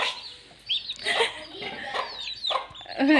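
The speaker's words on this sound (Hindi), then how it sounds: "आदिल, हमारी मुर्गी का पूँछ कौन उठा के गया" A hen clucks outdoors in dim evening light, giving a few close, soft clucks spread across the moment with some background noise.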